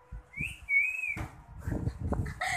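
A person whistles a catcall, one bright tone that rises and then holds for about a second. Clattering, knocking noises follow.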